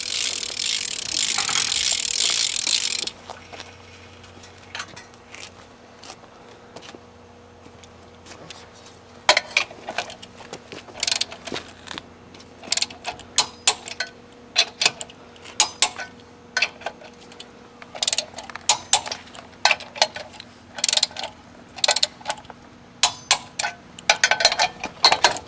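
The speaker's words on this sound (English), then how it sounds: "you need to tighten it down with the torque wrench." A torque wrench ratchets while tightening a car wheel's lug nuts during a tire rotation, a run of sharp clicking bursts in quick rhythmic spurts after a brief loud rush at the start, close and fairly clear.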